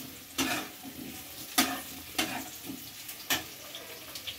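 Potatoes tossed into a pan of lightly browned onions for a Bengali lotte fish curry give several sharp stirring scrapes and sizzling bursts at irregular intervals over a steady low frying hiss.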